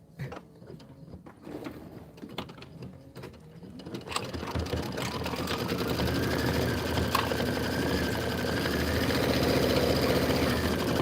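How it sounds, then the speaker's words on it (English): An embroidery sewing machine stitches a large pumpkin placement line in camel thread. It opens with scattered mechanical clicks, then settles into a steady, close, rapid needle whir that grows louder and continues without talk. "Stitch the large pumpkin placement line."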